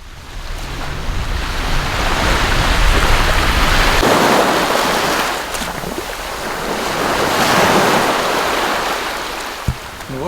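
Waves of the White Sea washing ashore, a loud roaring surge that swells, eases, and swells again, with strong wind buffeting the microphone and no voices.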